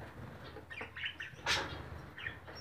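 Budgerigars and canaries kept together in a colony aviary, giving faint scattered chirps and tweets with a brief burst of wing flapping midway, distant and quiet.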